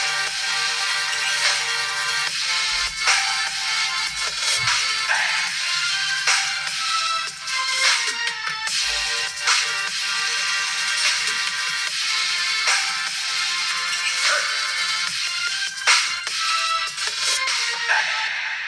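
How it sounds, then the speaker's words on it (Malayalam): Dual stereo speakers on a Poco X3 phone play a sample of music, a steady bright rhythmic track with regular beats running throughout at moderate level, with no talking. "ഈ ഡുവൽ സ്റ്റീരിയോ സ്പീക്കേഴ്സിന്റെ സാമ്പിൾ ഒന്ന് നോക്കിയാലോ"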